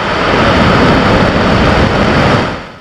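A loud, continuous roar of Saturn V rocket engines igniting in sequence fills the clip, dense and rumbling, with no voices, before it drops off at the very end.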